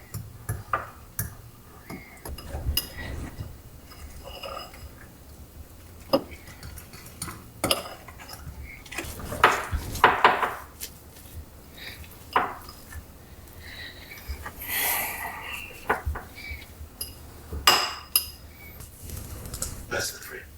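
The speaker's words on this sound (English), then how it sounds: "Alright, now we just gotta stir." A spoon stirs a meal dusted with cinnamon in a dish, giving scattered light clinks and scrapes with brief pauses, close and modest in level, while a person talks at times.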